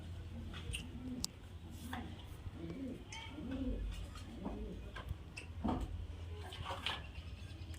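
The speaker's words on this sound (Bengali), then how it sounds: "প্রত্যেকটা পায়রা হাই ফ্লায়ার পায়রা দেখতে পাচ্ছেন ফ্রেন্ড" Giribaz high-flyer pigeons from Murshidabad coo repeatedly at close range, soft throaty rolling calls coming in a loose rhythm over a constant low background hum, with a few faint clicks.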